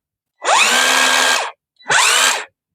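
Cordless drill on a repacked battery pack whirs up to speed twice in two loud, close bursts, each with a rising motor whine and a steady high hum, separated by a brief pause.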